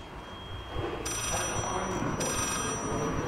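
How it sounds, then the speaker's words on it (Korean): A telephone rings inside a VR horror game, a thin high electronic ring that repeats in two bursts over a steady background hum, with no talking. "어 전화기야 이번에는"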